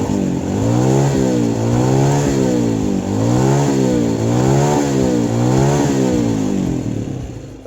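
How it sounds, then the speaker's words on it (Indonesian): A Honda Beat 2020 scooter engine revved hard, loud and close, climbing and falling in several repeated throttle sweeps before easing off at the end. "Sekarang saya mau coba gas motornya yang kencang, apakah dia mati atau tidak."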